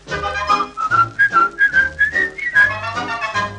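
A clear, melodic whistled tune from a 1941 Snow White and the Seven Dwarfs song recording, carried steadily over light musical accompaniment, the pitch gliding and rising through a cheerful phrase.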